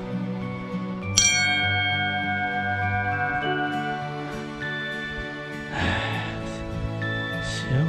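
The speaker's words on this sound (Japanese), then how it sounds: "じゃあちょっと鐘を鳴らさせてもらいましょう。" A bell on the summit of Mount Katsuragi in Izu is struck, giving a loud metallic clang that rings out with a long, slowly fading hum, followed by a second lighter strike near the end.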